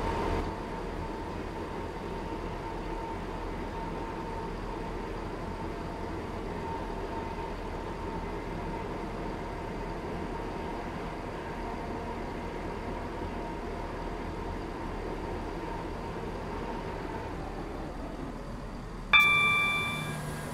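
Roblox Stepford County Railway train ride: a steady, low rumble of the moving train runs throughout, ending with a sharp metallic chime near the end.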